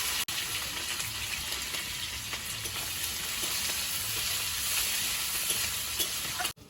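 Chopped onion fries with dry red chilli and whole cumin in hot oil, a loud, dense, even sizzle filling the whole stretch up close, with faint stirring.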